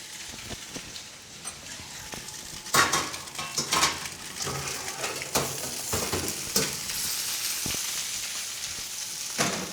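Soft crackling sizzle of lamb kebabs in an oven, with clinks and scrapes of metal pans and utensils, moderately quiet, no talking.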